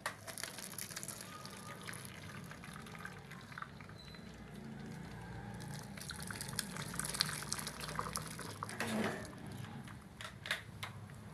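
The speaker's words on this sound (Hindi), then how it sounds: "अच्छी तरह से इसका पानी निकाल लेंगे।" Water from boiled potatoes is drained out of a pot into a vessel, giving a faint, steady splashing and trickling with occasional drips.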